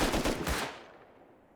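Rapid gunfire while clearing a monument in Rust, a quick close burst of shots that dies away into a fading echo.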